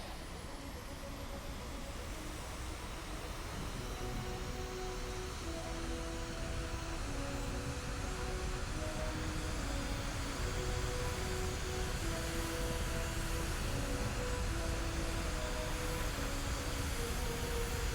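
Steady jet engine roar at full thrust in a video game, a loud continuous broadband rush with faint tonal whine lines, sustained unchanging for the whole stretch with no talk over it.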